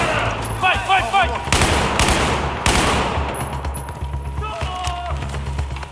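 Gunfire in the video game Battlefield 4, loud rapid bursts of automatic weapon fire with heavy booming shots, close and dense over game background noise.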